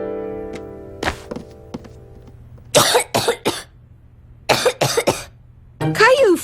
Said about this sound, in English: Caillou felt hot and was coughing